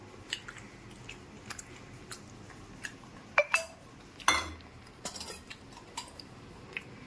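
Someone eats rice with katla fish curry: sparse, quiet clinks of dishes and utensils and soft chewing, with a few sharper knocks near the middle and no talking.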